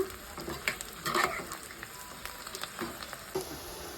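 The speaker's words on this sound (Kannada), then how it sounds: "ಚೆನ್ನಾಗಿ ಫ್ರೈ ಮಾಡ್ಕೋಬೇಕು" Garlic sizzles in a pan for dal khichdi, a soft continuous frying hiss with occasional stirring clicks, close and steady with no voices.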